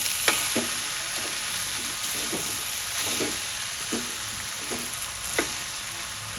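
Vegetable fried rice with pepper and spring onions sizzling steadily in a pan, with a spatula scraping and tossing at a regular rhythm, close and fairly loud with no talking.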